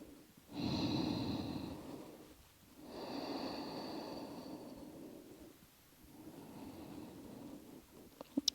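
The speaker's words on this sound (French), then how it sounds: "De respiration longue et profonde." Slow, deep yoga breaths sound close and quiet, with two long, airy exhalations followed by a softer third, separated by brief pauses, ending in a few faint clicks.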